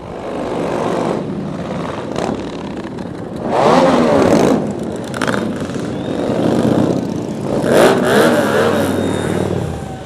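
A loud heavy motorcycle engine revs repeatedly at a beer festival in Chernivtsi, surging and dropping in rhythmic bursts, close by with a rough, throaty rumble.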